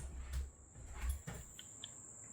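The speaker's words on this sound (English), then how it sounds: "You can hear the crickets." Crickets chirping outside a rural house in Harriman, Tennessee, heard faintly through a back room window as a thin continuous high trill, with a few soft thumps and no talk.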